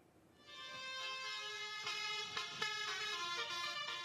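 A bus telolet horn plays a sustained, rising and falling run of musical tones, loud and continuous for several seconds, without speech.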